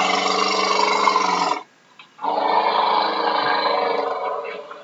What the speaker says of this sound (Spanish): voy a poner el sonido de un elefante.